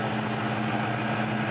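A 2004 Pontiac GTO with Stainless Works headers, catless mid pipes and an SLP Loudmouth exhaust idles with a steady, throaty rumble, recorded close and loud with no voices over it.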